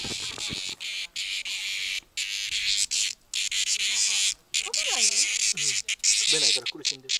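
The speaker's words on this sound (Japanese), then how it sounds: "あ、セミ鳴いてる。" Cicadas sing in a continuous loud, dense buzz through an outdoor hillside scene in Minoh, Osaka, near the waterfall and temple, while people talk intermittently underneath the steady insect drone.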